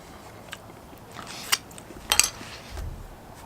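A spoon scrapes and clinks against a camp pot of rehydrating dehydrated food by a lake, a few sharp metallic taps and scrapes spaced over a few seconds, fairly faint with no talking.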